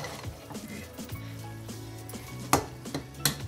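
Gajar halwa of carrot, ghee and cardamom frying in a pan while a spoon stirs it: soft sizzling under scattered metallic scrapes and clinks, with two sharper knocks near the end.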